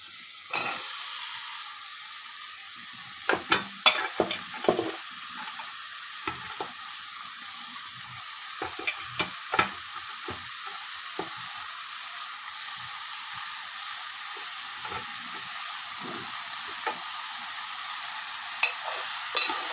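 Ridge gourd and moong dal are stirred in a sizzling pan, a continuous close frying hiss broken by scattered scrapes and taps of the spoon, with no talk.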